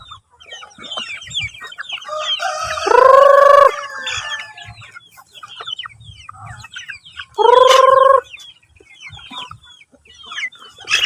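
Rhode Island Red chickens cluck and chatter close by while eating rice bran, with two loud, drawn-out squawks breaking out over the steady clucking.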